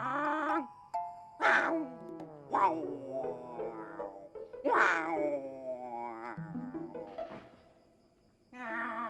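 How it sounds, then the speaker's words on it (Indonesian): A cat meows several times in drawn-out, rising and falling cries, fairly close, with short pauses between calls. "Suara kucing lagi tuh."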